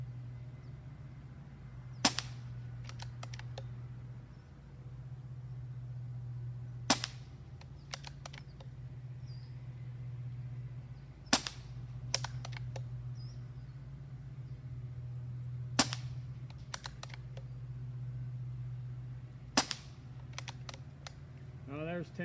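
A Benjamin Marauder .177 field-and-target air rifle is fired in a string of shots. Sharp, close cracks come about every four to five seconds, each followed by quick clicks, over a steady low electrical hum.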